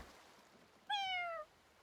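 A cat meows once in the video game Fire Emblem Engage, a clear, slightly falling mew about half a second long that stands out sharply against a faint, quiet background.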